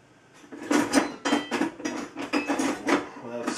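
Metal cutlery clatters and clinks as a knife is pulled out from among other utensils in a kitchen, several close rattling bursts over a few seconds.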